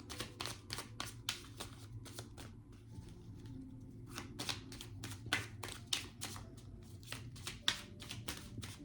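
Tarot cards are shuffled up close for a reading in a series of quiet, crisp riffling bursts with short pauses, a gap near the middle, then faster shuffles.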